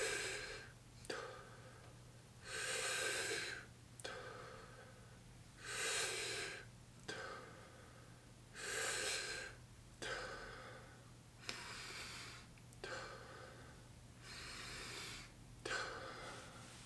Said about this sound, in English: So it would look like the fully inhale, letting go, fully inhale,